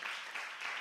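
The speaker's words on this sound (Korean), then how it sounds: "우리 찬혁이와 우리 이은 이자매 오셨는데 박수로 환영하겠습니다." A church congregation at a Sunday service briefly applauds to welcome guests. The clapping is soft and distant, a short steady patter lasting under a second.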